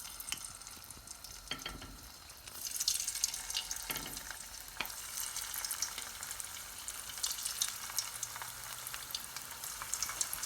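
Cabbage Manchurian balls dropped one by one into medium-hot oil, with a steady close sizzle of frying that swells as more go in and a few soft clinks.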